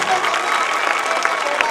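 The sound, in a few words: audience applause at school annual function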